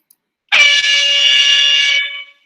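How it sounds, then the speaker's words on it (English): A single air horn blast from a soundboard, loud and close, holding one steady brassy tone for about a second and a half before cutting off cleanly. "Air horn."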